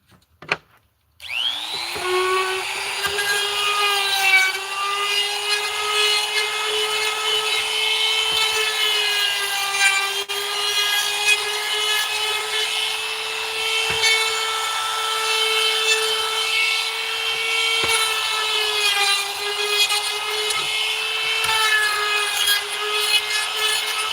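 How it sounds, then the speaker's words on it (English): A woodworking router fitted with a 1/8 inch roundover bit spins up after a sharp click and runs as a loud, steady high-pitched whine with harmonic overtones, cutting wood continuously for over twenty seconds with no talking. "So this is my router with an 1/8 inch routing bit. It's a 1/8 inch roundover bit."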